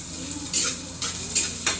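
Garlic and onion fry in oil in a pan for squid adobo, giving a steady low sizzle. A spatula scrapes against the pan in a few sharp bursts, with no voices.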